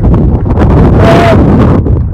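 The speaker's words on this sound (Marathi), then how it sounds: "भयान वारे" Strong, gusty wind buffeting the microphone on the trek up Kalsubai peak, a loud, close roar with deep rumbling that barely lets up.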